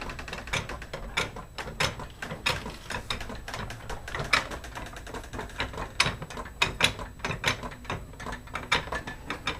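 A floor jack is cranked down under a car during an oil change and tire rotation, giving a steady run of close, repeated ratcheting clicks and mechanical clatter with no talking.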